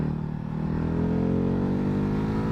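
A 2019 Ducati Hypermotard engine running in urban mode, a steady mid-pitched drone that rises slightly in pitch as the bike gently accelerates, heard up close and continuous with no talking.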